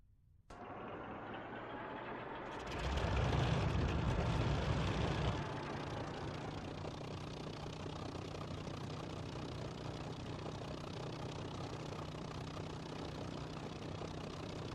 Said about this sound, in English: now with the engine started, we're going to taxi the Mk.V